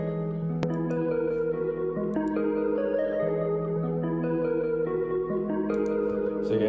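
Lo-fi beat melody built in FL Studio, run through EQ, an effect rack and a compressor, giving a warm, washy, vintage-sounding synth line with sustained chords and a few sharp transients, steady and continuous throughout.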